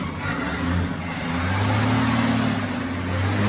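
A Chrysler VG Valiant Hardtop engine turns over and catches, settling into a rough mid-pitched idle with a rising rev, heard fairly close and alone throughout.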